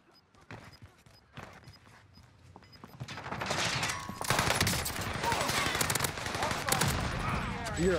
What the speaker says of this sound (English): Where are those gunshots going off?